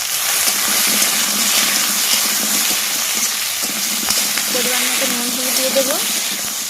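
Taro corms sizzle in a pan with panch phoron, chopped onion, garlic and bay leaf, giving a steady close frying hiss with soft stirring clatter.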